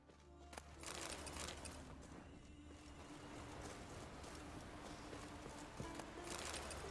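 Roach, the horse in The Witcher 3, clip-clops along softly at a steady walking rhythm under a broad wash of game ambience that sounds like surf, faint and fairly distant.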